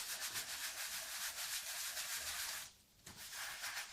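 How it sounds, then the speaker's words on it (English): Paintbrush bristles rubbing paint back and forth on stone garden furniture, a soft steady scrubbing swish with a brief pause near the end, quiet and close. "Rub the paint in well until they head right into the bristles."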